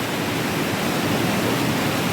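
Steady, full-bodied roar of a waterfall on Vancouver Island, a dense unbroken rush of falling water that holds a constant loud level for the whole stretch with no voices.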